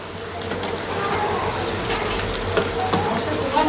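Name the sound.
frying and stirring meat and pointed gourd in a pan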